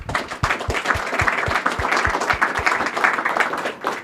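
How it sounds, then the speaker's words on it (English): Applause from a conference audience at a summit, with many hands clapping in a dense, sustained roar, a few sharp individual claps standing out near the start. "Let's give them a big round of applause."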